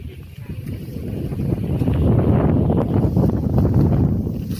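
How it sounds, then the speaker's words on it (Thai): Strong outdoor wind gusts over open land at a rural plot in Khok Thale So, Korat, roaring loudly into the microphone and swelling midway, with no talk over it. "อุ้ยลมเย็นมากลมเย็นมากๆเลย"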